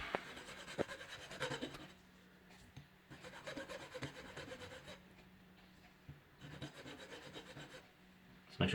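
A SIM card is filed down by hand with a file, producing quiet, close rasping strokes in three or four bursts separated by short pauses.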